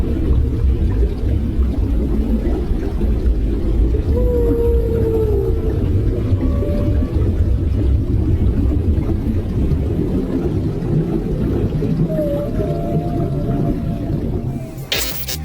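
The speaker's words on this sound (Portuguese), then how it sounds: "Escute agora os incríveis sons emitidos por uma baleia e sua cria." A whale and its calf call out in long, rising and falling tonal moans and whistles over a steady low underwater rumble, continuous for the whole stretch with no talk.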